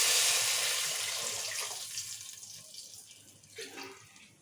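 Water for chicken biryani is poured into a cooking pot, a loud rushing splash at first that thins and fades over a few seconds to a light trickle, with no talk.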